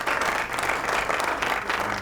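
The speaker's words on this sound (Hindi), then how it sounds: "तालियां बजाएं भाई।" Studio audience applauding during a Ramadan quiz show, dense continuous clapping from a crowd throughout, fairly loud with no talk over it.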